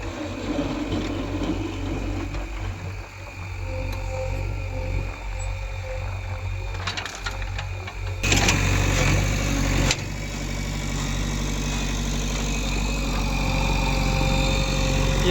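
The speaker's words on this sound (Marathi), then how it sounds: "ही 49 HP मशीन आहे बघू शकता तुम्ही." A 49 HP JCB loader's diesel engine runs steadily close by, a continuous low rumble with a brief louder surge partway through, with no talking.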